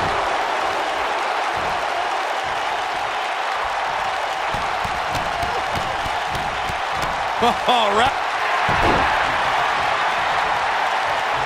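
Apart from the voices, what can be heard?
crowd cheering in WWE 2K19 video game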